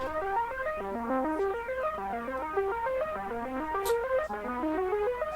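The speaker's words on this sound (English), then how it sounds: "I found this ARP, this arpeggiator that sounds like this." A synthesizer arpeggiator runs a fast, even stepping pattern of notes rising and falling in repeated cycles, steady and moderately loud, with a couple of faint clicks.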